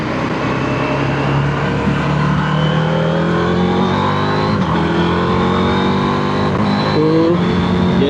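Heavy motorcycle engine at night revving, a deep, loud, continuous drone that climbs in pitch through several rises, close by and steady with no talk.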